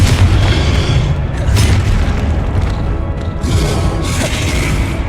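Confringo fire-blast spells explode in the video game Hogwarts Legacy: a loud, dense, continuous roar of booming blasts and crackling bursts that barely lets up, with no speech.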